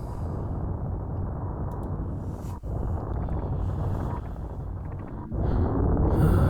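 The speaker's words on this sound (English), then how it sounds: "Explosion." A Super Metroid explosion in the SMZ3 randomizer rolls on as a continuous, heavy roaring rumble. It is loud and dense, briefly dipping twice before surging louder near the end, with no talking.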